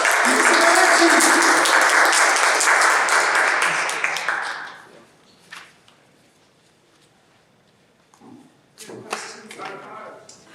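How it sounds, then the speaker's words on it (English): An audience at a club meeting breaks into loud, dense applause for about four seconds, then it fades out, followed by scattered quieter claps and a few sharp taps later on. "Round of applause!"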